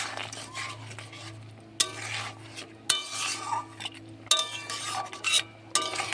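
A spoon stirs prawn malai curry in a pan, scraping and clinking repeatedly against the metal over a soft steady sizzle. Several sharper knocks stand out, and nobody speaks.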